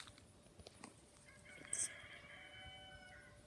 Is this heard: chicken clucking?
yes